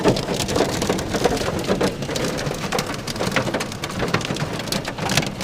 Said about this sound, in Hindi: बहुत तेज हवा है, बहुत तेज ओले गिर रहे हैं, बहुत तेज आवाज़ है यहाँ पर